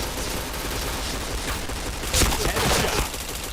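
Gunfire in the video game Point Blank, a dense stream of rapid shots with a louder burst partway through, continuous and close over a noisy mix.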